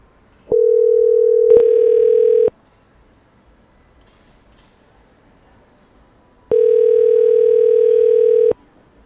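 An outgoing telephone call rings back twice, each a steady electronic tone lasting about two seconds, separated by a long quiet gap; loud and clear, with no talk.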